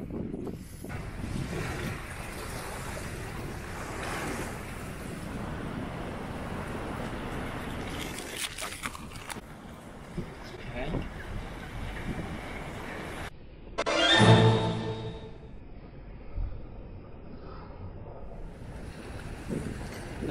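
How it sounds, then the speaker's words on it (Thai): Strong wind buffeting the microphone on the Okinawa coast, with sea waves washing in and one louder surge of surf breaking nearby toward the end. "ลมอาจจะแรงนิดนึง"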